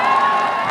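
A live Bhojpuri stage show audience bursts into loud, dense cheering and applause, a continuous roar of clapping and shouting crowd voices filling the whole moment.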